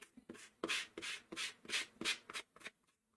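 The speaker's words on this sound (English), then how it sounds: "I'm just taking this sanding block and roughing up all of the edges all the way around." Rhythmic scraping of a sanding block roughing up the edges of a handmade mini book, about eight quick strokes in a steady back-and-forth pattern, close and fairly quiet.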